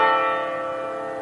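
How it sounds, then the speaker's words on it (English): A final bell at a college softball game rings once and sustains clearly on its own, its bright tone slowly decaying. "Well, that's the final bell,"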